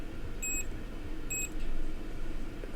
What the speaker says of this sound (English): Now it will beep on your meter for both.